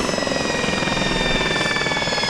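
A steady, loud engine whine with rapid rotor chop from an SA342 Gazelle helicopter shutting down in Microsoft Flight Simulator, holding close and continuous through the short stretch, without any voices.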